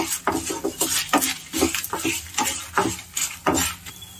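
Dried red chillies being roasted in a pan give quick, repeated scraping and tapping as a utensil stirs them, with a faint sizzle beneath, close and fairly soft.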